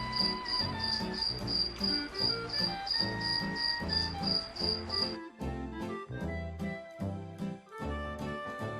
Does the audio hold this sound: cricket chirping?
yes